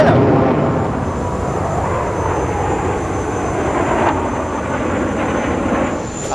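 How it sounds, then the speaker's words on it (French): Six Sukhoi Su-27 fighter jets fly in formation at the Dubai Air Show, a loud, sustained roar of jet engines filling the air for several seconds with no let-up. "6 Sukhoi 27 en patrouille en même temps"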